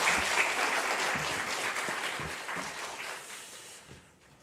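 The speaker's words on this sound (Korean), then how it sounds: "예, 뜨거운 박수 부탁드리겠습니다." A church congregation applauds during an afternoon worship service, a dense, loud wash of clapping that holds steady and then slowly fades toward the end.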